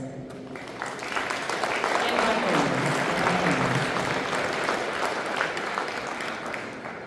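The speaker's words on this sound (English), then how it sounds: "please give a huge round of applause to the one and only our car owners" Audience applause rises into a full, sustained wash of clapping from a crowd at a classic car awards event, steady and moderately distant with no talk over it.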